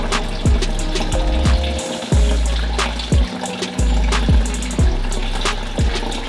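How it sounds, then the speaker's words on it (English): Engine coolant draining out of a Subaru during a turbocharger replacement, a steady close gush of liquid with gurgling surges and low rhythmic glugs, no talk. "So we're just going to pop that guy out right there, let all the coolant drain out."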